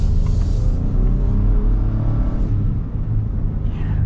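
A 2025 Ford Tremor pickup truck accelerating, heard as a steady low engine rumble and roar from inside the cab, holding fairly loud across the few seconds.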